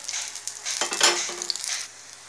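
Semiya adai cooking on both sides in a pan, a close sizzling hiss with a brief clatter of a spatula against the pan midway, then the sizzle settles down.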